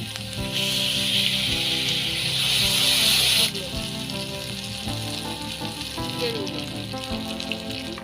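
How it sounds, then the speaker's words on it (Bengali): Tomato paste hits a hot pan with baby corn, setting off a loud, bright sizzle that holds for a few seconds, then drops to a softer simmering fry with light scraping and clinks. "দেবো টমেটো বাটা আর"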